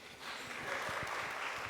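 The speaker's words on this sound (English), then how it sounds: "That's when you clap for me." An audience at a university career expo claps in a brief, even burst of applause, with a few individual hand claps audible inside the wash.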